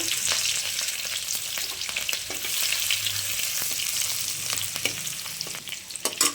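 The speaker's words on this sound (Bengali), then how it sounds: "এখন মা দিয়ে দিচ্ছে ফোড়ন মাছের জন্য" Black cumin, green chillies and crushed garlic tempering in hot oil for a fish dish, crackling and sizzling continuously with occasional stirring clicks and pops, close and fairly loud.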